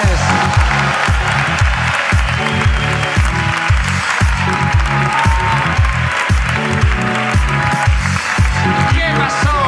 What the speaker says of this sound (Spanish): ¡Un aplauso para Guiu Cortés!